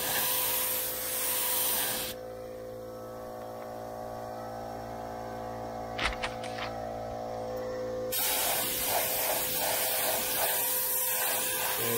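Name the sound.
spraying primer onto a truck door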